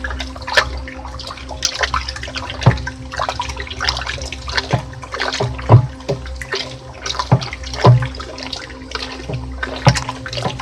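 Liquid waste decomposer solution sloshes and splashes in a container as it is stirred, with repeated rhythmic knocks and swirls, steady and close, without any talking.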